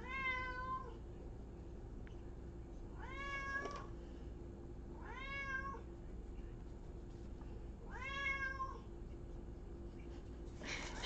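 A pet cat meows four times in drawn-out, rising-and-falling calls spaced a couple of seconds apart, fairly close and clear over a low steady hum.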